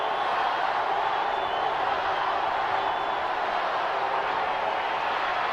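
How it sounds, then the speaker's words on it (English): Football crowd at a Permian versus Midland high school game in 2016, a loud, dense roar of cheering that holds steady throughout, broad and distant-sounding, with no clear individual voices. "Listen to the crowd."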